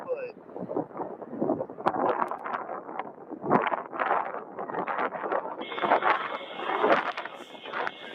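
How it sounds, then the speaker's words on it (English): Wind gusting across a microphone at an airport at night, rough, uneven buffeting that swells and fades throughout, with a steady tone appearing near the end and talk underneath. "it looks like we got some wind"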